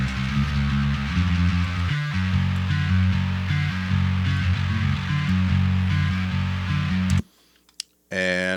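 A mixed bass track blending distorted and clean signals plays loudly in a steady repeating pattern, then cuts abruptly to near silence with a short burst near the end.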